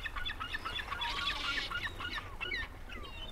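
Seagulls call near a cruise ship at Wolmido, where they gather for shrimp crackers. Repeated sharp, bright cries overlap one another at moderate distance over a steady low rumble, with no talk.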